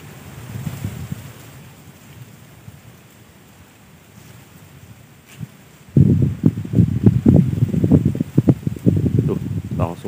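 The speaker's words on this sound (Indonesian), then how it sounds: "Ini anginnya kenceng lah." Strong wind blows across a swamp during a fishing trip, a rumbling gusty roar that is moderate at first and turns loud and buffeting in the second half, with a voice talking early on.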